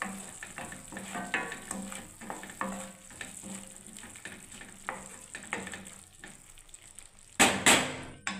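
Spices fry in oil for a vegetarian cabbage curry, crackling and spitting steadily with scattered stirring knocks, then a brief louder burst near the end, close and moderately quiet.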